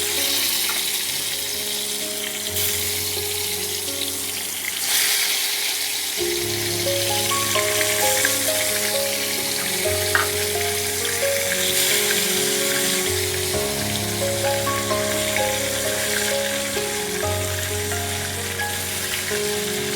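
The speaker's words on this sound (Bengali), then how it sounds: "তেল গরম হয়ে গেছে। এখানে আমি এই মশলা মাখানো বেগুনগুলোকে দিয়ে দেব।" Spice-coated eggplant pieces fry in hot oil for a Bengali dish, a steady bright sizzle that sounds close and continuous. A low hum pulses on and off beneath it, and no one speaks.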